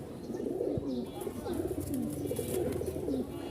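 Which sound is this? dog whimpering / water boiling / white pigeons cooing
white pigeons cooing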